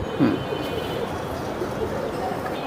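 Pigeons for sale at a bird market, including silver bezi and hammer breeds, coo in low repeated murmurs against a steady crowd hum, with voices talking nearby.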